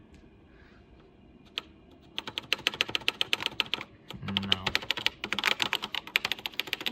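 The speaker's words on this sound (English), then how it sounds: "See if the keys work." Keys are tapped in quick irregular clusters on a filthy vintage home computer keyboard during a key test. A short word is spoken near the start, with a faint hum beneath.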